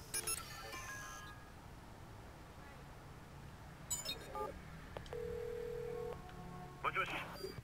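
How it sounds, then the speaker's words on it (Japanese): A phone call being dialed in the video game Watch Dogs: a few short electronic dialing tones and beeps, then a steady ringback tone, faint against quiet background noise and game ambience. "レッドバグに電話しろ。"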